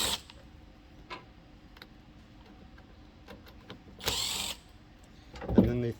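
Small tool work on the T20 Torx bolts of a Jeep Gladiator third brake light: quiet clicks and ticks, a couple of short buzzy driver bursts and a louder rattle near the end, in a fairly quiet space.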